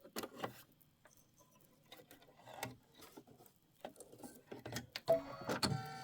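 Embroidery machine stitching a jack-o'-lantern pumpkin design, running as a quiet, uneven patter of needle taps with small clicks and rattles, growing busier and louder near the end.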